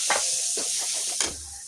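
Cumin seeds and asafoetida crackle in hot oil while tempering a cauliflower, potato and carrot curry, giving a steady close hiss with a few brief louder bursts of spatter.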